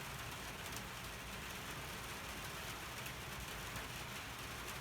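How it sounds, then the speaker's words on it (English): Steady rain falls on a narrowboat at 5 AM at North Kilworth Wharf, an even, faint hiss of drops throughout with no talk. "5 AM, just woke up to some rain."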